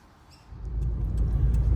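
A Subaru WRX with a newly fitted pitch stop mount pulls away on a test drive, its engine note rising into a low, steady rumble that grows louder through the short stretch.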